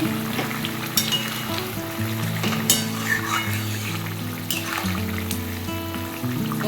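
Potatoes boil in water inside a covered pan while a Bengali fish curry is being made, giving a steady, close hiss and bubbling sizzle that runs the whole time, with low humming tones underneath.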